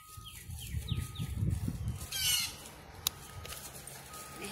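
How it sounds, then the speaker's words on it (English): Birds call outdoors in a residential neighborhood, with several short chirps early on, low clucking or squawking sounds and a passing noise in the background. "Listen to the birds."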